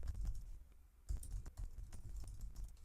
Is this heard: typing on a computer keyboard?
yes